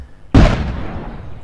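A cannon shot in the Pet Simulator X game launches with a sudden loud boom that bursts into fireworks crackle, the blast fading into a long, dense hiss of sparkling pops.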